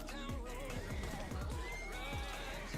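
Horse whinnies and neighs repeatedly in a video game, over a steady game soundscape, with clip-clop hooves and faint voices mixed in.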